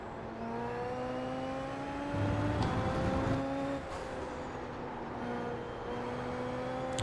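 Super Formula open-wheel race car engine in the iRacing sim at the Red Bull Ring, a steady high-pitched engine whine that climbs with revs and swells louder mid-clip before settling back, heard alone without talk.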